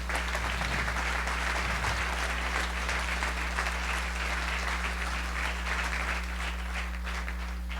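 Sustained applause from a church congregation at a Saturday evening service, dense steady clapping filling the room for the whole stretch over a constant low electrical hum.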